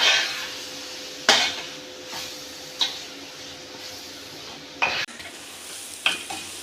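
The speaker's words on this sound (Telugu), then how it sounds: "నెక్స్ట్ కొత్తిమీర వేసుకోవాలి, కలుపుకోవాలి ఇప్పుడు బాగా" Chicken fry with freshly added coriander is mixed in a pan, a soft sizzle running underneath while a spoon scrapes and clinks against the metal in a few sharp, separate strokes, close by with no talking.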